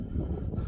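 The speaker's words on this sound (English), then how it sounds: "you might not be able to hear me because it's quite windy up here" Low buffeting wind rumbles against the microphone on a hilltop near Bleaklow Head, a brief, continuous gust, loud and muffled with no other sounds.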